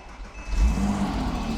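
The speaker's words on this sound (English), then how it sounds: "So we'll do a cold start." Cold start of a 2006 Porsche Boxster roadster engine, a close, loud idle that quickly swells into a deeper rumble and then holds steady.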